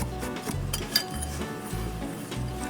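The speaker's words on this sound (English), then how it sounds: "I'm kind of breaking up some of the brown sugar chunks as well, which is nice with this little whisk." A small whisk breaks up brown sugar chunks in a bowl, giving steady light clinks and scraping against the bowl with one sharper tap near the middle, close and alone.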